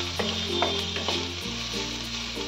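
Chopped mushrooms and vegetables fry and sizzle steadily in a pan while a spoon stirs and taps through them in a few quick strokes, with a constant low hum of the stove underneath and no voices.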